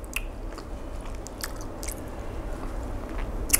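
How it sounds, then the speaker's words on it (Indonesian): Takoyaki topped with fish flakes being chewed close to the mic, soft wet mastication with scattered crisp bites throughout, no talking. "Sambil-sambil korang kunyah takoyaki tu, lepas tu ambil pula dia punya fish flake ni."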